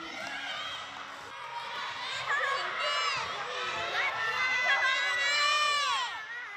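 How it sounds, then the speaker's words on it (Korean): Third-grade children shout and cheer at full voice during an obstacle race at a school sports week, a dense, lively crowd of young voices that swells toward the end. "지켜보는 아이들은 목청껏 화이팅을 외치며 힘을 실어줍니다"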